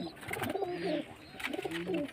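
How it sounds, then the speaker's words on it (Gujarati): Pigeons, including a pure white one, coo in low, soft, rolling phrases that repeat over a steady outdoor background, fairly close by. "આપણું બીજું કબૂતર આવી ગયું છે સફેદ આંખવાળું છે"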